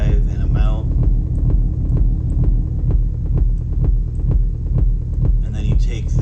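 A techno rumble bass from a VCV Rack modular synthesizer, sent through reverb with drive turned up, pulses in a steady fast throbbing beat with a deep booming low end and short ticks on each hit.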